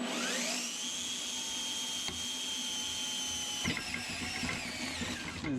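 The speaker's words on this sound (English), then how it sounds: "I'm gonna go ahead and drill some holes here" A power drill whines at a high steady pitch, spinning down briefly before biting again, close and continuous with no voices.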